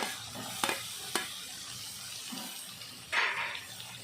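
Grated coconut stirred into softened tomato, garlic and onion in a pan for a brinjal kuzhambu, with a soft ongoing sizzle, a few sharp clicks of a spoon against the pan, and a louder scrape near the end.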